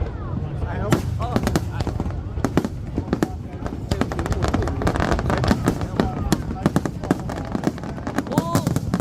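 Dense barrage of fireworks bursting over Boston at a July 4th drone and firework show, rapid loud cracks and booms overlapping continuously, with crowd voices and exclamations mixed underneath.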